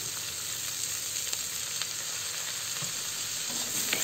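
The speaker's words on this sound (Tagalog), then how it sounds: "Ilagay na natin ang hiniwang kangkong." Chopped water spinach tipped into a pan of sizzling onion and garlic, producing a loud, steady close frying hiss with a few stirring knocks, no talk.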